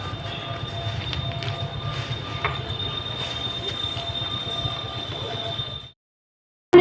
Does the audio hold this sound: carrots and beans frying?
no